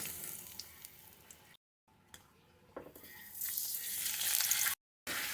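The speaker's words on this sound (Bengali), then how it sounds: "একটা পাঁপড় ভেজে নেবো" Masala papad frying in a kadai of hot oil, a close hissing sizzle with light stirring scrapes, broken by two brief silences and swelling louder toward the end.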